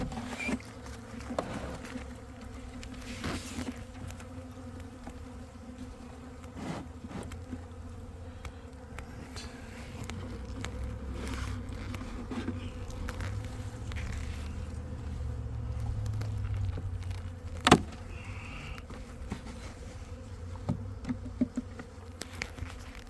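Honeybees buzz steadily in a hive opened for inspection after the queen left, a dense close drone with scattered clicks and handling knocks of frames.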